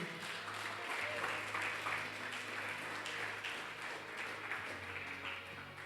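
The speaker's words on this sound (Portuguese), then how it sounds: "Eu queria que você aplaudisse a Jesus, como é costume." Applause from a church congregation praising Jesus at a Sunday evening service, a soft, steady wash of many hands clapping at a distance, with faint low hum beneath.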